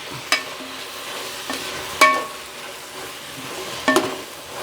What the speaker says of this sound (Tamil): இப்போ நல்லா திருப்பி மிக்ஸ் பண்ணணும் உள்ளி இஞ்சியையும் நல்லா அவிய விடணும்